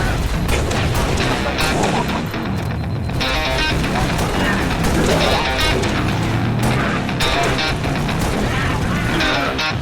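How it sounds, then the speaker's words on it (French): Gunfire and explosions in the video game Halo: Reach, on the Winter Contingency mission: dense, continuous bursts of shots and booms, loud and close, with voices speaking over the combat. "Je fais feu."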